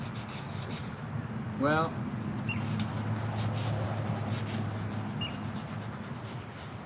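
Sanding paint off a 1967 Dodge Dart by hand gives a steady abrasive rubbing, close and continuous, while someone says a word and shop noise hums in the background.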